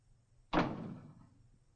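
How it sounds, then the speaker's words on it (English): A door swings shut with a single solid thud that rings out briefly in a quiet room, heard alone without talk. "Close the door."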